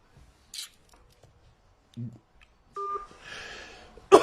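Telephone dialing a call back, short keypad tones and beeps heard among faint rustling and handling noises, fairly quiet and close.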